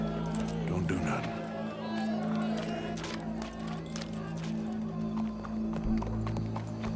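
Horse hooves clip-clop across ground in the Red Dead Redemption 2 video game, with a steady galloping rhythm under game characters' talk and a faint crowd in the background.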